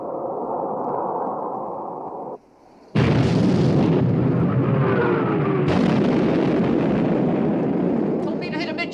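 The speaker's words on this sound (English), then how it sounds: "Open fire, main armament." Battleship main guns fire in a 1960 naval war film, with a sustained roaring blast, a brief lull, then a sudden heavy boom that keeps rumbling loudly with another surge near the end.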